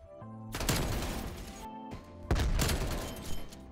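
Two heavy gunshot blasts in Call of Duty, each a sharp crack followed by a long ringing tail, with a faint musical or UI tone between them.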